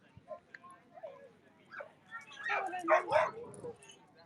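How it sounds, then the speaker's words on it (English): Several dogs bark and yip excitedly in a chaotic burst, growing louder and more frantic toward the end. "Oh dear, dog chaos I hear."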